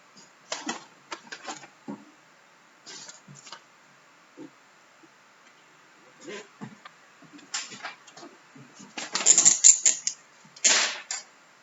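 Marker or chalk writing on a classroom board during a chemistry lecture, with bursts of quick tapping and scratchy strokes in irregular clusters, fairly close and clear, and no talk.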